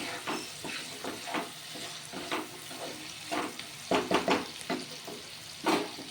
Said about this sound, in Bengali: আমি ঢাকা দিয়ে দিয়ে ভেজেও নিচ্ছি সেদ্ধও হয়ে যাচ্ছে